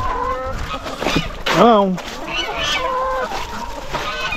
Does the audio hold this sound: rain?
no